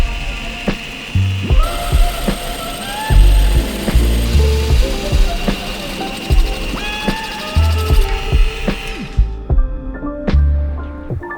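A drill press bores a series of holes in wood, each pass a short, loud mechanical whir and bite separated by brief pauses and knocks, recurring rhythmically before the motor winds down at the end.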